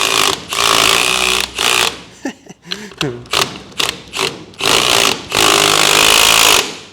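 A pneumatic impact gun hammers on the clutch nut of a Beta 200cc two-stroke engine being assembled, firing in several loud rattling bursts with short pauses between them and a few clanks of metal in the gaps.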